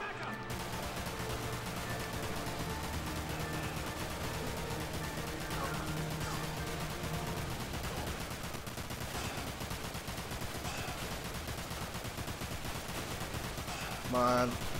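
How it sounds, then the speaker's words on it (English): Sustained automatic machine gun fire in the shooter game Dirge of Cerberus, dense rapid bursts running steadily through the whole stretch over a game soundtrack, with a sharper loud burst near the end. "Let's equip the machine gun. I have lots of ammo for it."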